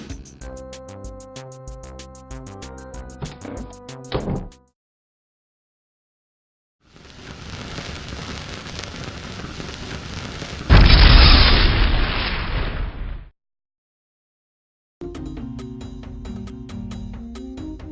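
A sudden thunder boom bursts out as a loud, broad crashing rumble that cuts off abruptly. Steady hiss comes before it, and music plays on either side.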